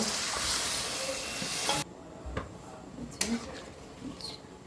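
Broth is poured onto a sizzling fried onion and spice paste in a pan for a Bengali fish curry, and the loud hiss suddenly drops to a quieter simmer with a few soft stirring knocks.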